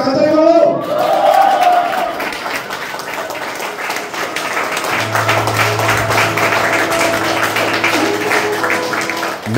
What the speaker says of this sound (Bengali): সবাই মিলে একটা হাততালি করো